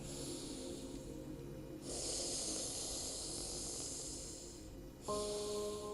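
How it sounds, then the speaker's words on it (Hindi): Sheetkari pranayama: hissing breaths drawn in through the mouth past the teeth with the tongue behind them and let out through the nose, repeated in long airy pulses with a soft snort-like texture, close and steady with no talking. "फिर शीतकारी, दांतों के पीछे जीभ लगा दी, मुख से लिया, नाक से छोड़ दिया"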